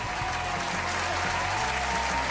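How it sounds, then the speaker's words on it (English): Steady applause from a small audience during a podcast-style catch-up show, continuous clapping close and even throughout, with a faint voice underneath. "And applause."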